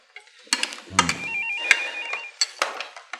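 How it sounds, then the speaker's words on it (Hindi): A telephone rings in an indoor drama scene, its electronic warbling trill repeating a few times amid light clatter and knocks. "साईं अकबर जी का फोन है आपके लिए"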